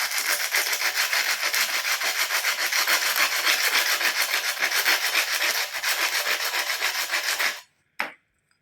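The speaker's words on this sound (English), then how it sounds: "Here you can use the abrasive paper." Abrasive paper scrubs rust off an old antique axe head in fast, rhythmic back-and-forth strokes, a close, loud, continuous gritty rasp that stops abruptly, followed by one brief scrape.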